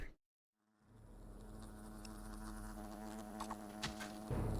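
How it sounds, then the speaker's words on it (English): Wasps buzzing in the video game Fable, a continuous insect drone that swells in after a brief silence and holds steady, with faint game effects layered on top. "kill the wasps, wait for her to spawn in more wasps"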